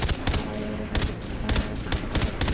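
Rapid bursts of gunfire in Far Cry 3, loud close shots in quick clusters across a few seconds, alone without talk.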